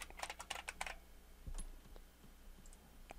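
Quick keystrokes on a computer keyboard enter a password, a rapid close burst of clicks followed by a few separate taps, all faint in a quiet room with no voices.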